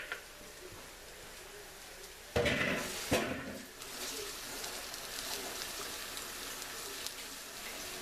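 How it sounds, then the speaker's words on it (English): Running tap water splashing into a sink for quick handwashing, a steady broad hiss with a louder burst of gushing around the middle, continuing alone without talk. "Okay, I'm going to quick wash my hands."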